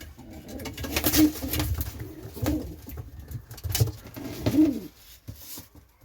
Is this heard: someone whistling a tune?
no